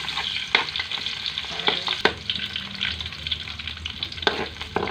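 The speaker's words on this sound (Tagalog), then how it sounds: "gigisahin na natin yung ating takway" Taro stems hiss and crackle as they sauté in a pan with garlic and onion, with continuous sizzling broken by the scraping knocks of stirring, heard up close.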